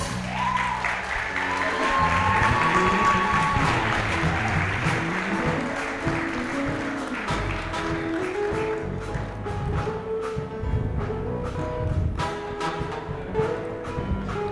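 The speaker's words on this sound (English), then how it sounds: "A round of applause for her" Applause from an awards ceremony audience, steady and broad clapping held at a moderate level for several seconds with a faint murmur of the crowd mixed in.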